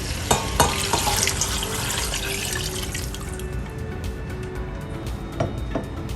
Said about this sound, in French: Je vais venir rajouter un grand bol d'eau.